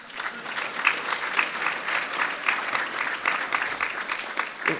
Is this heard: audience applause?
yes